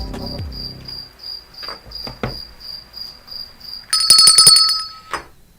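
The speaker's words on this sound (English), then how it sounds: "Crickets are cricketing." A cricket chirping sound effect used as a comedic gag on a morning talk show: a steady, high, pulsing chirp repeating throughout, with a few soft knocks, rising to a louder, denser burst of chirping near the end.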